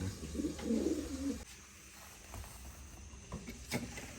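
Soft, low pigeon cooing rolls near the start, followed by quieter background rustling and a few faint clicks.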